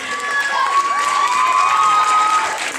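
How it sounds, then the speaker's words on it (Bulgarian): A crowd at a contemporary dance awards ceremony breaks into loud, sustained cheering and applause for a prize winner. Shrill shouts and whoops rise above dense clapping, and the noise stays steady throughout. "Силни аплодисменти!"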